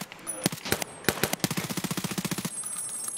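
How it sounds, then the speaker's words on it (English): Rapid automatic gunfire in Escape from Tarkov, a few loud separate shots followed by a fast, steady burst of about twenty rounds, close and sharp, with no talk over it. "Oh, he shot me."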